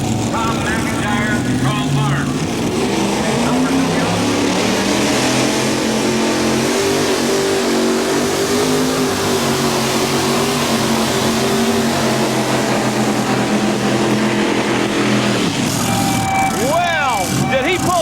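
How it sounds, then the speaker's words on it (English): Loud, sustained revving of the Tough Enough mini rod pulling tractor in a 1994 USHRA 1850 tractor pull at Bowling Green, Ohio, a steady engine roar that cuts off near the end into crowd noise. "He takes that Tough Enough tractor right on out of here this afternoon."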